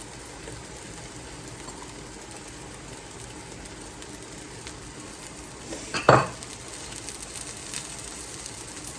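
Mushrooms fry in a pan for a vegan omelette, giving a low, steady sizzle, with one brief clatter of a utensil against the pan partway through.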